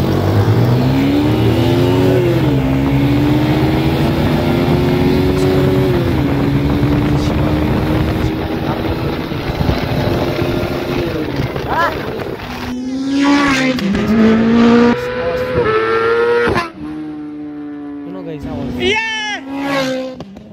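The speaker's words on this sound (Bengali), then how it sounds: "এই যে বাইক কালো বাইকটা গেল" Motorcycles including a ZX-10R pass by, a loud sustained engine drone rising and falling in pitch, with someone talking over it and a brief revving pass near the end.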